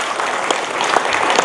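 Applause at an anniversary gathering of UNIMA Indonesia, a brief burst of loud, dense clapping from an audience close by.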